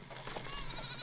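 Sheep and goats bleating in the Chalbi desert, a brief, faint, wavering animal call heard at a distance over a low background rumble.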